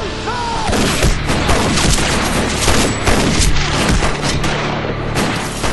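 Loud, dense gunfire in a tense armed standoff scene, continuous crackling shots and booms that fill the clip with no pauses.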